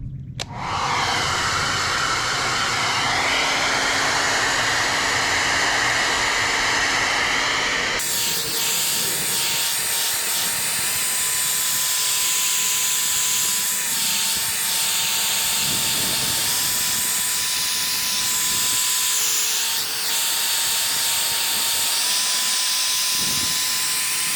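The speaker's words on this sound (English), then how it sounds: "We're going to heat up this decal and let that adhesive loosen up" A heat gun warming a vinyl decal on a Ford Ranger truck bed, a steady loud blowing hiss with a constant motor whine, shifting pitch partway through and running unbroken.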